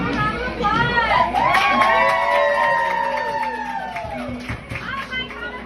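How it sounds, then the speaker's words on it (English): A crowd at a gathering in a 55-plus retirement community in Sun City, Arizona, cheers with rising and falling whoops and shouts, with busy crowd noise and some clapping underneath. "Give a round of applause"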